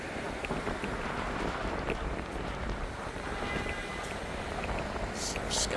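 A cold breeze blows along a downtown Duluth, Minnesota street early on a Sunday morning, rumbling steadily across the microphone as continuous wind noise with no distinct pauses.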